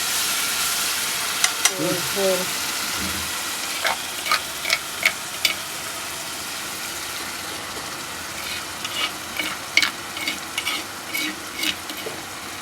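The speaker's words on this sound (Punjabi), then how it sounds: "ਜਿਹਨੇ ਵੀ ਚਾੜਤਾ ਤੜਕਾ ਚਟਣੀ ਨੂੰ" A tadka tempering poured over chutney in a Punjabi home kitchen sizzles in a steady, hissing wash, dotted with scattered sharp crackles and pops throughout.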